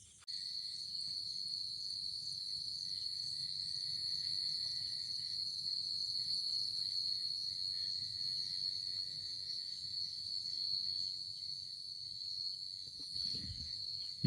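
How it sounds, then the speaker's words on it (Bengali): Crickets trill at dusk in a continuous, high, steady drone, fairly faint and unbroken, at a jungle eco resort in Belpahari, with a short rustle near the end. "এইরকম ঝিঝি পোকার ডাক"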